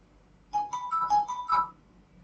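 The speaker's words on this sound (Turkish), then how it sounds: "Telefonum çaldı." A phone ringtone plays a short melodic phrase of bright electronic notes, about a second long, standing out loud and clear against a near-silent room.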